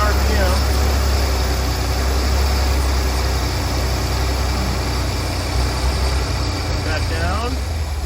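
An Opel Corsa engine holds a steady idle at about 1,300 RPM, a constant low rumble heard close up with no break or change in pitch.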